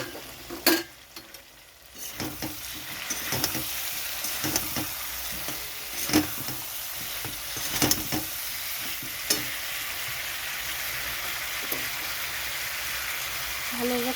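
Papaya sautéing in a pan while cooking a katla fish curry with papaya and potato, a steady sizzle broken by scattered clinks and scrapes of stirring, with some talk over it.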